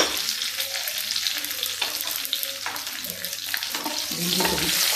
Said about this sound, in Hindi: अब देखिए, इसमें हम डाल देते हैं अपनी भिंडी